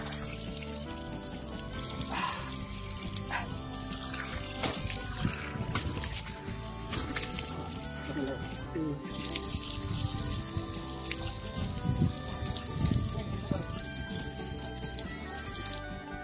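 Water trickles among rocks on the Kondaparva Mallayya Swamy hill near Vissannapeta. A soft, continuous splashing runs throughout at low volume, joined midway by a thin, steady high-pitched buzz, with a few scattered knocks.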